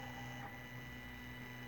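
A 3D printer, a Prusa fitted with a Noctua cooling fan and vibration-damping feet, prints a honeycomb vase in purple filament with a steady, quiet motor hum and a faint whir, with no voice.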